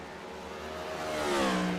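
A race car engine revs in the iRacing sim racing game, a loud, steady drone climbing in pitch as it accelerates, with no voices over it.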